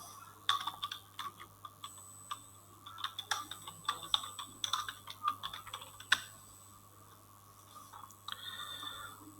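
Typing on a computer keyboard to enter text in Canva, with close, crisp key clicks in irregular bursts and short pauses, followed by a brief quiet stretch and a few final taps.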